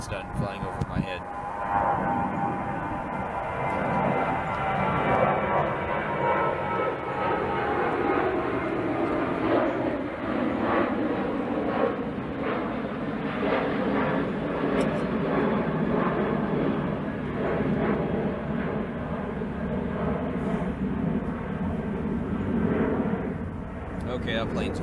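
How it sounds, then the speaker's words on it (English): Airplane passing overhead outdoors on a mountain, a loud, steady broadband roar that swells and slowly fades over about 25 seconds. "this plane gets done flying over my head"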